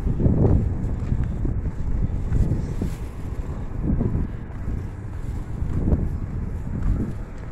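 Gusty wind buffets the microphone in low, rolling surges, rising and falling every second or two with no voices.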